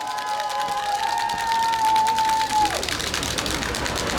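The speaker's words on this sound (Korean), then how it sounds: "박수 한번 주십시오." Crowd applause and cheering at an outdoor election rally in a traditional central market in Tongyeong, a broad, steady wash of clapping and voices throughout, with a sustained tone in the first part.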